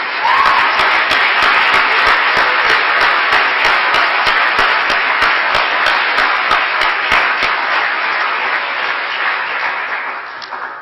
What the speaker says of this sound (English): Please join me in another round of applause for Mr. Brooks.